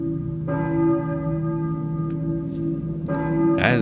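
Two deep church bell strikes ring out a few seconds apart in the video game Silent Hill, each leaving a long sustained hum, with no talking over them.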